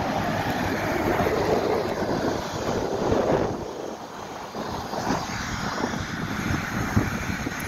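Airplane engines roar loud and steady near LAX airport, a broad rushing drone with wind buffeting the microphone throughout, easing briefly midway before swelling again.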